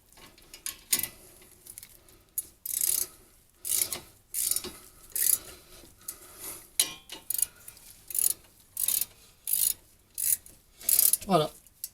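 Hand tools work on the front brake caliper bolts of a Honda CR-V during a pad change, giving repeated short ratcheting bursts in an irregular rhythm, close and fairly quiet, with no talk.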